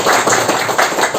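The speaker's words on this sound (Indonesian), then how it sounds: "Saya minta tepuk tangannya jenengan dong" An audience at a bonsai seminar applauds, a short burst of dense, loud clapping from many hands in a room, with no talk.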